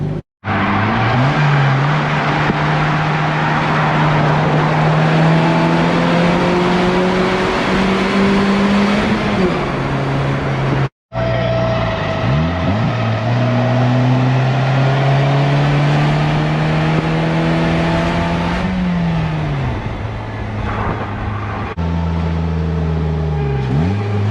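A Polaris Slingshot SLR three-wheeler drives hard and corners, its engine droning loud and close as it climbs through the revs, with brief drops at the gear changes and some easing off through the turns.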